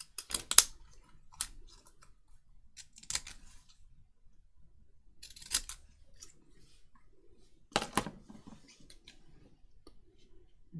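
Scissors snipping closer around a paper shape for a card-making challenge, a handful of sharp separate cuts spaced out against near silence.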